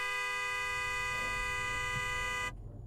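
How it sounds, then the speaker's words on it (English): A car horn held down in the Butterfly Soup 2 video game, a steady, loud, continuous tone blaring for about two and a half seconds before cutting off abruptly. "The dad curses and lays down on the horn as the Honda changes their lane."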